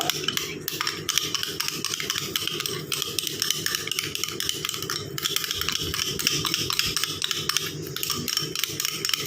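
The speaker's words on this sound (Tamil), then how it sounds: "நல்லா மிக்ஸ் பண்ணிக்கோங்க." Aloe vera gel cream being mixed in a bowl, with a steady, dense scraping and clinking of a spoon against the bowl throughout, close and continuous with no talk.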